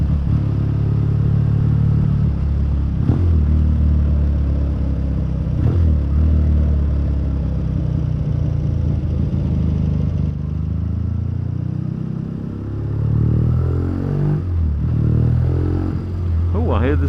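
Triumph T140V motorcycle engine cruising steadily in fifth gear, a continuous low droning hum with a few brief clatters and a short rev swell near the end; a rider talks over it throughout.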